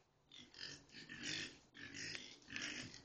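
Galloway farm pigs grunting and snorting up close in a steady run of rough, throaty bursts, with no talking.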